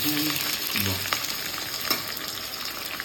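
Onion frying with whole spices such as bay leaf and garam masala in a pan, a soft continuous sizzle with light stirring clatter, fairly quiet and without voices.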